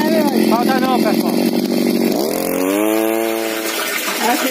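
Small motor water pump driven by a brushcutter engine runs at a steady high-pitched drone that dips and climbs in pitch partway through, with rushing water beneath, loud and close.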